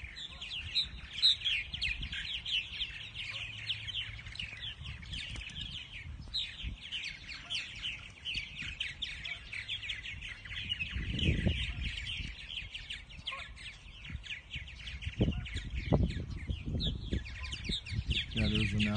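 Purple martins chirping and chattering steadily around a nesting box outdoors, fairly faint, with occasional low thumps and brief wind or handling noise beneath the calls.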